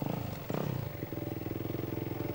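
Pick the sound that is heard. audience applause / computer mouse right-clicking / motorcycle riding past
motorcycle riding past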